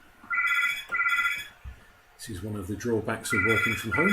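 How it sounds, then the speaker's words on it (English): A telephone rings in a home office, repeated bursts of electronic trilling tones with someone speaking over the later rings. "Sorry about the phone."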